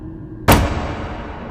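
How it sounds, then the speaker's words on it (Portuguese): A door in a room slams shut with one sudden heavy bang, then a reverberant rumble fades out over the next second. "a porta atrás deles se fechou com um estrondo"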